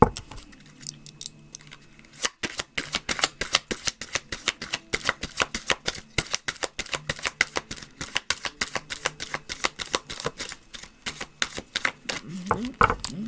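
Tarot cards shuffled rapidly in the hands, a dense run of crisp riffling snaps and flicks after a quiet start, with a few soft voice sounds at the beginning and end.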